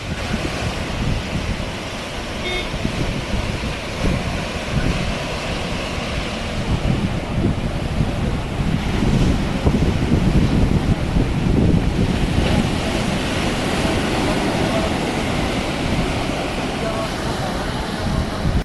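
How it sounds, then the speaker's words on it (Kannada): Sea waves crashing on the shore near the Azhimala Shiva temple in Kerala, a steady distant roar with slow surges and wind buffeting the microphone. "ಸಮುದ್ರದಿಂದ ಅಪ್ಪಳಿಸಿ ಬರುವ ಅಲೆಗಳ ಬೋರ್ಗರೆತ ಇಲ್ಲಿವರೆಗೂ ಕೇಳಿಸುತ್ತೆ ನೋಡಿ"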